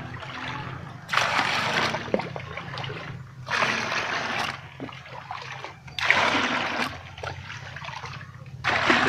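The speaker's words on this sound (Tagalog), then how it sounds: "Kuha tayo tubig sa pool." Water scooped from a pool with a dipper and poured out, four distinct splashing pours spaced a couple of seconds apart over a quiet outdoor background with faint gaps between them.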